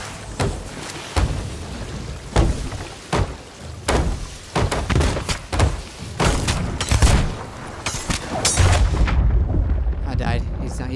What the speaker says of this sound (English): And they're still freaking shooting at us